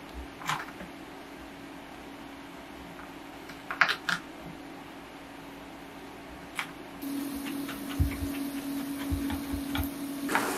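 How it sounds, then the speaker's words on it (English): Garlic chopped with a knife on a cutting board while making beef stroganoff: scattered sharp taps and clicks at close range over a quiet kitchen hum, becoming a steadier low sizzle-like background toward the end. "so I'm gonna cut up the garlic"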